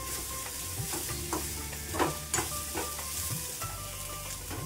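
Misal ingredients sautéed in a pan over medium heat until crisp, a loud close sizzle with repeated stirring scrapes and clinks, no voices.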